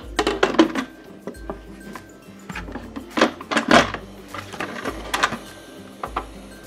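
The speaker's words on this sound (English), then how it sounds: "And then we're gonna put on our lid." The metal lid of an Instant Pot goes on over a Nihari stew, making several sharp clanks and scraping clatters in uneven bursts, close and fairly loud, with short quiet gaps between them.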